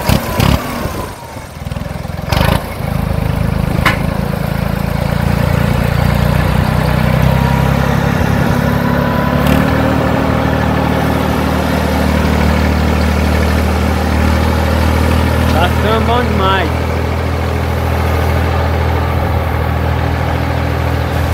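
Diesel engine of a Valtra A950R tractor running steadily on a farm field while cutting a contour terrace with a rear blade, a loud continuous low rumble with a brief revving surge near the end.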